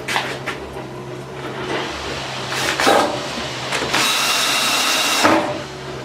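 Screws driven into the legs of a wooden stand built from a pallet, with short bursts of a power driver whirring and biting into wood, broken by clunks and handling knocks, close and fairly loud.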